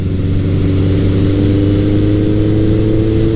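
A motorcycle engine pulls in top gear from low revs, a loud, close, steady mechanical drone with a slowly rising pitch and no pauses.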